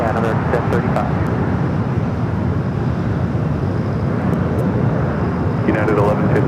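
A Boeing 777-300ER airliner in Shanghai Museum livery at LAX gives a steady, loud jet roar that fills the whole stretch without a break, with people talking over it.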